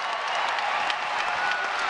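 A packed basketball arena crowd stands and cheers with sustained applause late in a tight college game, a dense continuous roar filling the space without letup.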